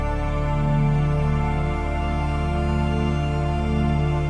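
A sustained bass note from the sub oscillator of a Hive software synthesizer, retuned low for an ambient track. It plays alone as one deep, steady, harmonically rich drone that holds evenly for several seconds.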